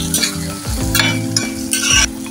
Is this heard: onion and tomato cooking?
yes